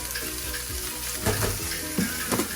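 Sausages fry in a pan with a loud, constant sizzle, broken by a few brief clattering knocks as they are moved about.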